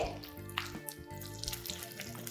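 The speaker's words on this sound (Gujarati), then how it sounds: "એ પાણી એડ કરીએ છીએ" Water pours from a pot into a pan of sautéed brinjal for a green baingan curry, a steady splashing stream over faint kitchen hum, close and moderately loud throughout.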